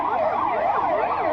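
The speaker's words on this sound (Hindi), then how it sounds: "ये एम्बुलेंस है जिसमें घायलों को इलाज के लिए ले जाया जा रहा है" An ambulance siren wails during a mock emergency drill, loud and close, its pitch sweeping up and down in a steady repeating cycle with no talking.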